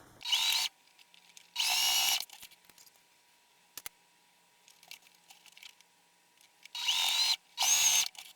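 A sewing machine stitching a fabric bunny basket: short, whirring runs of rapid stitching in separate bursts, close and steady, with quiet handling clicks in the gaps.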